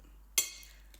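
Glasses clink once in a toast, a single bright, ringing tap that decays quickly in a quiet room.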